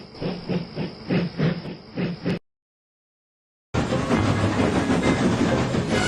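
A model railway steam engine chuffing in rhythmic puffs as it departs a yard, cut off by a brief silence, then a loud continuous hiss of steam with rolling rail noise.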